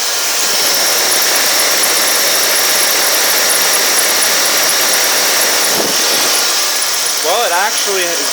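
A Cadillac Eldorado engine, cold-started after sitting for five years, runs at a loud, steady roar with no dips, and a voice speaks briefly over it near the end.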